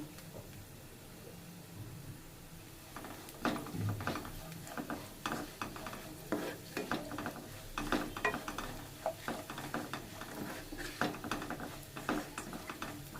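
Spatula scraping and stirring through a pan of paneer masala curry as turmeric, coriander powder and garam masala are mixed in, a steady run of close scrapes and clacks with a faint sizzle underneath.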